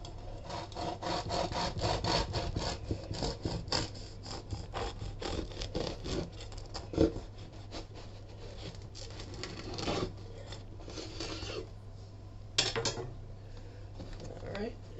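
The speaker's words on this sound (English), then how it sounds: "we're going to go ahead and cut the bread down the middle and take a look at the crumb" A knife saws through a loaf of sourdough bread down the middle in quick, rhythmic rasping strokes. The strokes are quiet and close, with a few brief knocks near the end.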